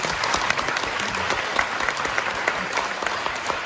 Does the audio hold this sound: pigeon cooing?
no